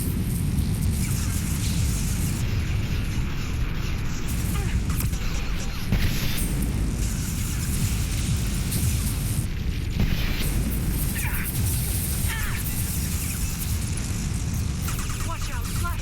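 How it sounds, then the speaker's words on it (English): Flashbang grenades going off in the sci-fi shooter Mass Effect 2, a continuous dense barrage of booms and bursts with gunfire-like crackle throughout, loud and close, with game voices speaking over the chaos. "Watch out, flashbangs!"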